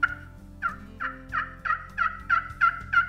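Soft yelps from a slate turkey call played with a wooden striker tip: a steady run of about eight evenly spaced, raspy notes, close and clear, with no voices.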